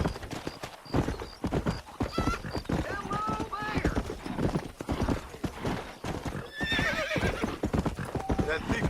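Hooves clip-clop steadily while a horse in the video game Red Dead Redemption neighs and whinnies, with someone talking over the trotting.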